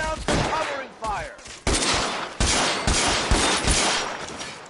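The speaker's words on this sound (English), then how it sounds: "Lay down some covering fire." Gunfire during a shootout in L.A. Noire, a series of loud close gunshot bursts and volleys in rapid succession, with brief shouted game voices in the first second.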